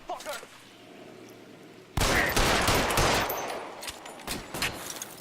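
Rapid bursts of gunfire from a gunfight in the video game LA Noire, a loud sustained volley that kicks in suddenly after a quieter opening and runs with dense, overlapping shots before thinning into scattered reports.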